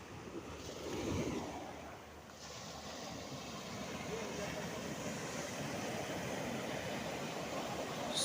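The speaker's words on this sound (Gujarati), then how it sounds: "સુંદર મજા નળિયા દરિયાના મોજા ફાળા મારી રહ્યા છે." Sea waves wash and crash on the shore with buffeting wind on the microphone, a surge swelling early and then a continuous surf rumble.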